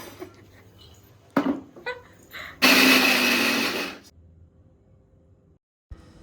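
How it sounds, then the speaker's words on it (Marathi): A mixer grinder grinding peanuts roars loudly for about a second and a half, preceded by a few short bursts of clatter and handling noise, then stops abruptly into near silence. "हे शेंगदाणे तुमच्या गाडीला लावून द्यावं जरा असं लावून द्या जरा गाडीला तुमच्या"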